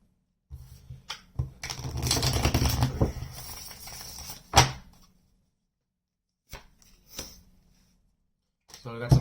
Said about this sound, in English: get one more shuffle